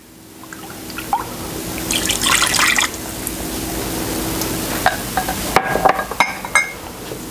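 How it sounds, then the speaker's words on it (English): Water swished around in a cup to rinse out leftover Karo syrup while making divinity candy, heard as soft sloshing and dripping splashes, with a louder burst of swirling early on and sharper drips and clinks toward the end. "So I'm going to add my water to this cup"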